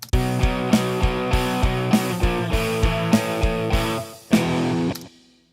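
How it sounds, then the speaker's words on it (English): Programmed blues rock drum part with kick, snare, quarter-note hi-hat and a closing crash, a steady loud beat over sustained distorted chords ending on a ringing crash that fades out. "I added a hi-hat on every quarter note and a crash on the end."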